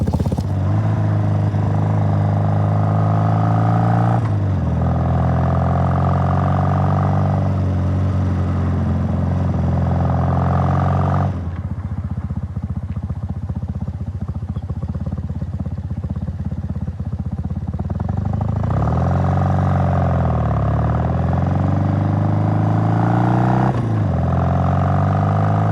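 A 1968 Triumph Bonneville or Norton Dominator classic motorcycle engine on a test ride, running loud and close for the whole stretch, its tone rising and falling with throttle changes and a lower, rougher patch midway.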